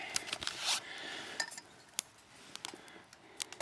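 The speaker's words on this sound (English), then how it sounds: "Put the lid on." A metal lid set onto a cooking pot on a small wood-burning stove outdoors in the woods, giving a few light metallic clinks and clatters, fairly close and alone with no talk.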